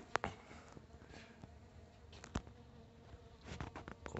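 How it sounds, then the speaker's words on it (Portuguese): A bee hums faintly while moving around a small potted plant in an orchid nursery garden, the buzz steady but quiet under scattered outdoor clicks and rustles. "essa plantinha aqui e essa abelha com um grão de pólen dela"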